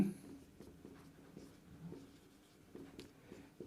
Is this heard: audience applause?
no